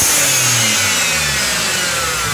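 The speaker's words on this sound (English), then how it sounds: "starting with the HKS, it has kind of a higher pitch sound" A BMW 335i fitted with an HKS blow-off valve runs its engine in a loud, continuous mechanical roar. The revs rise and fall under a high-pitched whooshing whine, close up and without speech.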